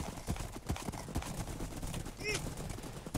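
Galloping horses in a video game horse race minigame, hoofbeats pattering steadily across the short stretch with a brief whinny near the middle, heard under lively background noise.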